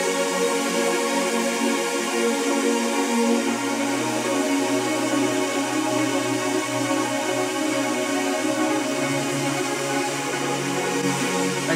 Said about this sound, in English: probably one pad would sound like this.